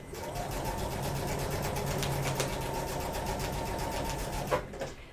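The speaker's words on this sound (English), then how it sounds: "let's go ahead and stitch this closed. And we're once again using that blue thread." A sewing machine runs steadily with blue thread as it stitches a seam closed, a continuous close mechanical whir that cuts out near the end.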